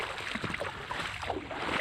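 An 800cc PJS jet ski engine runs out on the water, a steady, loud, broadband roar with constant spray and wash and no pauses or talking.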